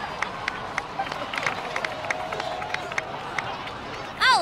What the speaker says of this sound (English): please give another round of applause for them